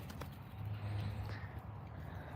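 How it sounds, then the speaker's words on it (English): Hooves of several horses clip-clopping at a steady walk outdoors, faint and fairly distant with low rumbling ground noise and no talk. "But look at these horses, guys"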